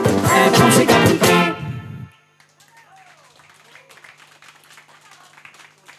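Audience applause at a Miss and Mister Eden OI 2020 election final, loud dense clapping for about two seconds that cuts off abruptly, followed by quieter room sound with faint voices.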